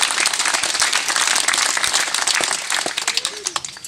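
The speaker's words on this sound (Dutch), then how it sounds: "Mogen we klappen? Voor uzelf dan, hè?" Audience clapping for themselves at an art-district neighbourhood flag-raising celebration in a residence garden, a dense broadband wash of applause lasting a few seconds, thinning into scattered claps at the end amid some crowd chatter.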